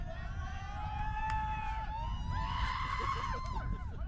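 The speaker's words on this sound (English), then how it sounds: "You can hear the cheer out there from for Rahul actually." A cricket crowd at a T20 match in Arkansas cheers for a bowler's delivery, a distant swelling roar with shrill whistles and shouts, rising in a second wave near the end.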